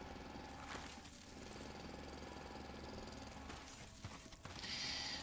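Mechanical drill in the Foundry video game, a steady rattling, ratcheting grind running throughout at low level, with a brighter whine rising near the end and no talk.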